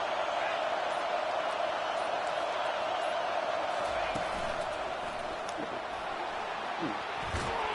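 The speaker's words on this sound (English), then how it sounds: "It's early, but this crowd is fired up. Listen to this noise here." A college football stadium crowd, Missouri against South Carolina, roars in a steady, dense wash of cheering and noise that holds evenly from start to finish, with occasional louder swells and a commentator's voice faintly underneath.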